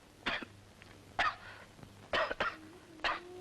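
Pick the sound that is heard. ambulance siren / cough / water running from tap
cough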